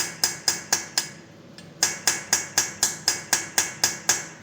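A hammer tapping a corroded stud stuck in a Harley-Davidson engine head, sharp metallic strikes close and loud: four evenly spaced blows, a short pause, then about a dozen more in a steady rhythm.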